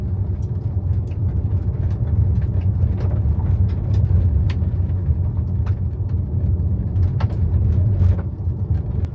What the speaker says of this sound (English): You've got like that gravel sound right here